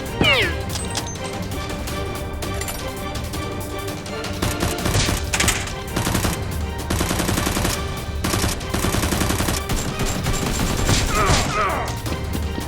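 Toy Nerf guns fire in rapid bursts during a mock gun battle, producing a dense, loud crackle of shots with bangs, thuds and other clatter layered through it, over a steady musical background.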